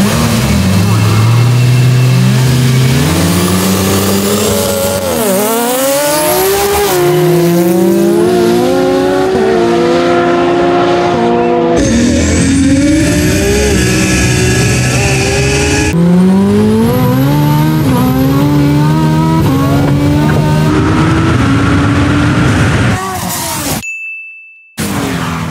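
Two high-horsepower cars, a 1300hp Nissan Skyline GT-R and a 1480hp Mitsubishi Lancer Evolution VI, launch in a drag race, engines roaring loudly through rising gear shifts with turbo boost, continuous and close until a sudden cutoff near the end.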